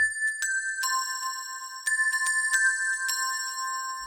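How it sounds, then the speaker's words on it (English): A bright synth bell melody from the Yamaha XS7's internal J-Pop sound plays a sequence of clear chiming notes with sustained ringing overtones, clean and close with no talking. "This is an internal sound from the XS7,"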